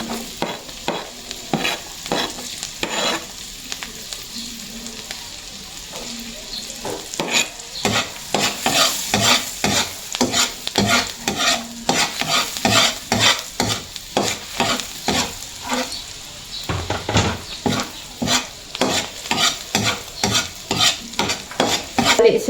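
Garlic and pakoy fish sizzle in a frying pan while being stirred, producing a steady frying hiss with repeated loud scraping strokes of a utensil against the pan, growing busier and louder midway, with no talk.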